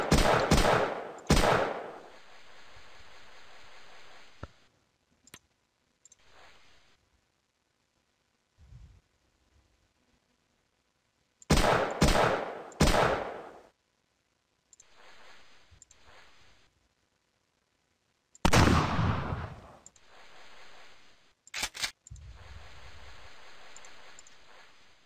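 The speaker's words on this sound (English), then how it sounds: "Covering fire." Bursts of covering gunfire from the video game Caravaneer: several loud, broadband volleys of rapid shots, each cutting off abruptly, separated by quieter stretches and near-silent gaps, with no talking.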